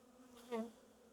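A honey bee buzzes close during a hive inspection, one short loud buzzing pass swelling and fading within about a second over a faint hum of other bees.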